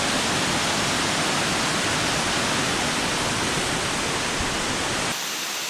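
Connestee Falls in Western North Carolina gives off a dense, steady roar of falling water, heard from above the falls as a constant broadband hiss that drops away abruptly right at the end.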